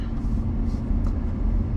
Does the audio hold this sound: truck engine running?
yes